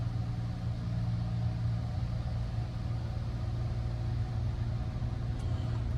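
Tesla Cybertruck sitting in an automatic car wash gives a steady, loud low drone and hum of machinery and spraying water, unchanging for the whole stretch with no talk.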